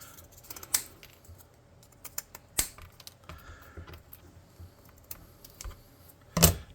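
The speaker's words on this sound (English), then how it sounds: "And then I'll come back and snip off that excess." Cutters snipping off excess scrap material for a tabletop terrain tower: scattered sharp, close clicks spaced irregularly over quiet, ending in a louder snip.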